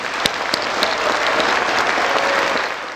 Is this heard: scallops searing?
no